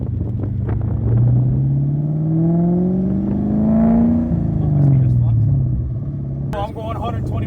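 A Terminator Cobra with a stand-alone ECU drives at high speed, its engine droning loudly with a rising whine and steady rumble that swells and eases. A voice talks over it throughout.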